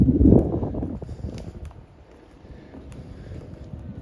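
Gusty wind buffets the microphone in a Florida fishing village, loud and rumbling at first, then easing into a lower, steady blow.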